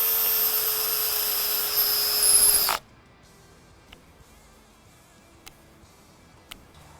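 A cordless drill's motor whines steadily at high speed, then cuts out abruptly as its precision torque clutch disengages, leaving quiet with a few faint clicks.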